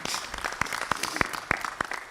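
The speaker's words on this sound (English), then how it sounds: "you should even clap for ourselves at some point" A stakeholder forum audience claps in a loose, uneven patter, with a few sharper, evenly spaced claps standing out over the brief burst.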